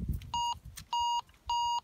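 Metal detector swept beside a tree trunk on an abandoned ranch, giving three steady electronic beep tones, each about a quarter second long and evenly spaced, over faint low background rumble.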